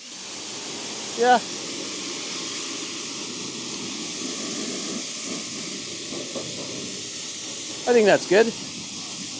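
A DeWalt pressure washer fitted with a foam cannon sprays a steady, loud broadband hiss throughout, close by, while someone speaks briefly over it.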